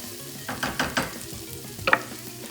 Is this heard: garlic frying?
yes